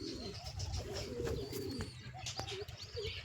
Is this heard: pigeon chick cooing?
yes